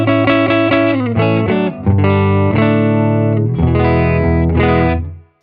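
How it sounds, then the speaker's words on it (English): Distorted electric guitar with humbucker pickups plays chords and picked notes through a Silktone Parallel 25-watt single-ended Class A amplifier, loud and close, with notes ringing out into a reverberant tail. "we can get some humbucker sounds while we check out this reverb"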